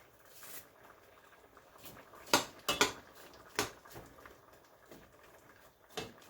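Knife work on pork tail and fresh beef for Jamaican stewed peas, done without a cutting board: a few sharp metallic clinks and taps of the blade against a pot or dish, sparse and close, with quiet handling noise between.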